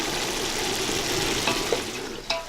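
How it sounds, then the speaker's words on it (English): Chicken fries in oil in an outdoor village kitchen in Kenya, a soft, steady sizzle with a few brief clatters and stirs near its end. "the chicken is still frying"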